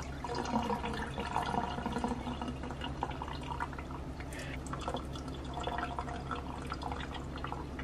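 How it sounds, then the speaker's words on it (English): Soaking water strained off cashews in a kitchen, heard as a steady run of splashing drips and trickling liquid at close range, without any talk. "And now I'm going to strain off the water."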